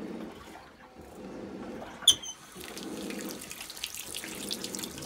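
Water runs steadily from a tap into a sink during face washing, with splashing and a sharp clink partway through, close by and unaccompanied by speech.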